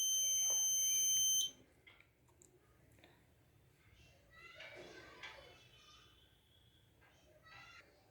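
An Arduino Uno-based automatic school bell rings as a loud, steady electronic alarm tone for just over a second, then cuts off, leaving faint clicks and distant children's voices.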